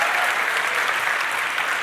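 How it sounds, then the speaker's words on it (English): An audience applauds for a chief financial officer at a live crypto conference event, a dense, steady wash of clapping that holds at the same level throughout with no voices on top. "A round of applause to our CFO, Harpal Singh over there."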